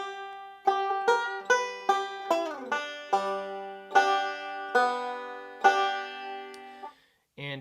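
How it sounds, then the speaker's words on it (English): Banjo picking a G lick in Sally Goodin position for "Little Maggie": a steady run of bright plucked notes with sharp attacks and quick decays, played alone, ending with a brief pause and one last pluck. "We're just going to basically do a G lick in Sally Goodin position."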